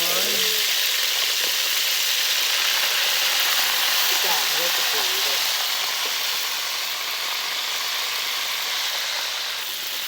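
Crabs fry in a pan with a steady, loud sizzle and crackle that lasts throughout, while voices can be heard faintly in the background.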